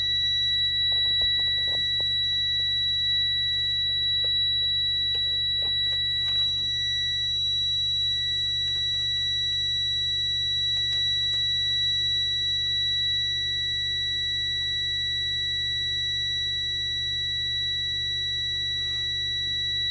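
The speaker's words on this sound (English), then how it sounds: "looking for both the air alarm, audible alarm, and the visual red light alarm to both go off" A truck's air brake low-pressure audible warning alarm sounds as a steady, loud, unbroken electronic tone lasting throughout, with faint clicks and rustles in the background and no talking.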